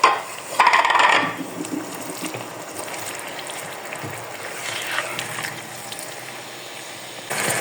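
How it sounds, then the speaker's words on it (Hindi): Half a kilo of mutton mince drops into browned onions frying in a pan, a loud hiss and scrape at first that settles into a steady sizzle. "अब मैं इसमें हाफ केजी मटन का कीमा शामिल करूंगी"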